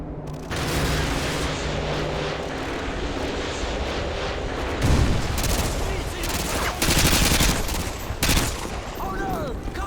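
Continuous gunfire in the video game Call of Duty: Modern Warfare 2, dense rapid shots with aircraft roar and explosions over a loud battle din.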